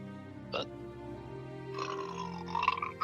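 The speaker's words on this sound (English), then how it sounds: "burp." A burp breaks out during a tabletop fantasy roleplaying session, a short low eructation heard close and moderately loud with people talking around it.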